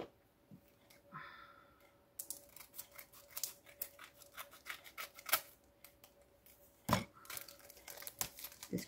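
Scissors cutting paper for vintage ATC cards, a quick run of close, crisp snips and rustling paper handling at low volume, with a few sharper clicks scattered through.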